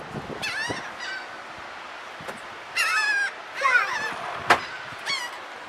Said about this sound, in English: What do you think about all them birds, Cora?